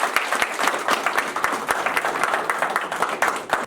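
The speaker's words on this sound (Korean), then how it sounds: "그들 위해서 박수 부탁드리겠습니다" Applause from an audience at a mayoral candidacy press conference in Ansan, welcoming ten young AI workers: dense, steady clapping from a crowd, loud and close, filling the whole stretch with no talk over it.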